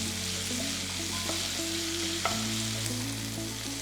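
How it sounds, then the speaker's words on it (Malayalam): Onions sautéing with salt in a pan for an egg curry, a steady close sizzle running throughout with occasional scrapes and clinks of stirring. "ഇതിലേക്ക് കുറച്ച് ഉപ്പ് ചേർക്കാം. നന്നായിട്ടൊന്ന് വഴറ്റിയെടുക്കുക."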